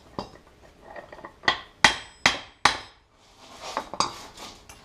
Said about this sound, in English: I'm going to try to drive this bushing out here.